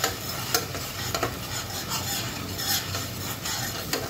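Oil and spices sizzle steadily in a pan for koi fish kalia while a spoon stirs and scrapes through them, a close, continuous frying hiss with soft scraping strokes and no speech.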